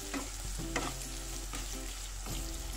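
Sheep trotters frying with masala, a continuous sizzle with short stirring scrapes at intervals, close and fairly loud.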